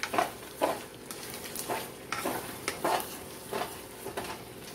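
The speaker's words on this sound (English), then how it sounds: "Then you're going to put your egg mixture all over. Stir that in." Egg mixture stirred into buttered spaghetti noodles in a pan over medium heat, a series of rhythmic scraping strokes over a soft sizzle, close and moderately loud.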